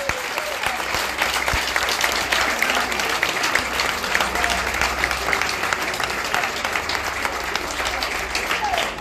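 A crowd applauds the young people at the celebration of the opening of the Casa di Enzo centre, a dense, steady wash of clapping from many hands that holds at an even, full level throughout.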